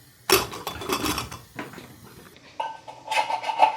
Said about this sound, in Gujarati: ઢાંકી દઈએ કુકરને.